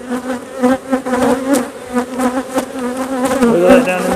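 Honey bees droning in an open hive, a loud close buzz with wavering pitch and pulsing swells as insects pass near, steady throughout, no speech.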